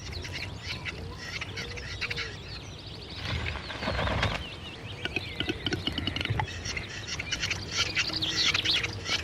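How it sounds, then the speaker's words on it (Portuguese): A male capercaillie calls on a forest display arena where rival males compete. Dry clicks, pops and rustling wing flutters repeat steadily at moderate distance against a busy outdoor background. "O tetraz macho é um pássaro impressionante"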